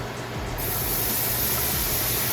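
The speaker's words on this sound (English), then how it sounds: "we're going to put that garlic in next" Garlic hits a hot pan just after steak bites have cooked in it, giving a sudden loud, broad hiss and sizzle that jumps up and then holds steady close by.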